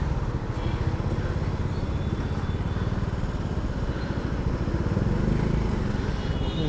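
A motorcycle engine drones steadily while riding along a road near Kondeshwar Temple and Dam, a continuous close rumble with a faint voice in the background.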